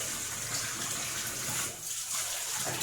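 Water pours from a tap in a private bathroom, a steady, full rushing hiss that continues unbroken at an even level throughout.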